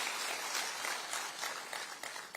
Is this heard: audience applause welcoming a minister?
yes